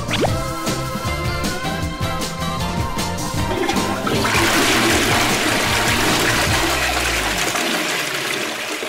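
A toilet flush used as a sound effect in a film-review show intro: a loud, continuous rushing swirl of water lasting several seconds, swelling midway and cutting off sharply near the end, with no voices.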